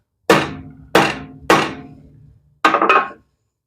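Three sharp hammer blows on wooden stock butted against a metal pin in a woodworking shop, evenly spaced and close, followed by a quicker double knock.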